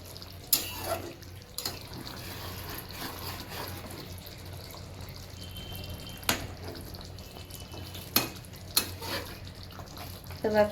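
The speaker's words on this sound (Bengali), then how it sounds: "এখানে আমি একটু গরম জল অ্যাড করেছি" Hot water is poured into a pan of oil-fried koi fish curry, a quiet liquid trickle with occasional sharper splashes and clinks, fairly soft throughout.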